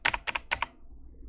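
A computer mouse clicks several times in quick pairs, sharp and close, during HTML form work, then the room falls quiet.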